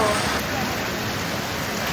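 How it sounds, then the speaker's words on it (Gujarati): Heavy rain pours down in Amreli, a dense, steady broadband hiss that stays loud and even throughout, with no distinct drops standing out. "ભાઈ બહુ વરસાદ આવે છે"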